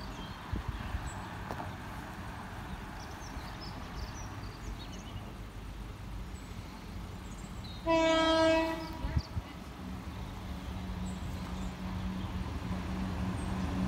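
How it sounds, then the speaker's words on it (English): A train passes Meadow Lane level crossing with a low rumble, sounding one loud horn blast of about a second midway, distant and quiet otherwise with no talk. "Train."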